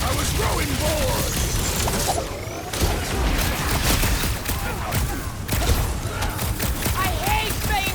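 Explosions and gunfire rage in the Guardians of the Galaxy video game, a dense, continuous barrage of booms, blasts and mechanical clatter, loud and close, with character voices shouting over the fighting.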